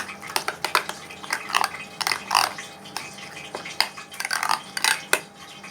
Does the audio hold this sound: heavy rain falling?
no